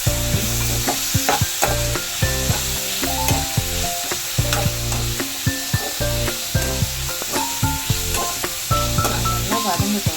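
Green gram kurma base sautéing in a pan with turmeric powder: a steady sizzle broken by repeated close spatula scrapes and knocks, with music playing underneath throughout.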